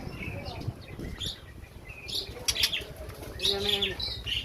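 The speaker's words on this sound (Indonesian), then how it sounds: "Burung isian lengkap." White-rumped shamas at a bird farm flutter and call, with wing flaps and scattered chirps and whistles, fairly close, amid light background noise and no speech.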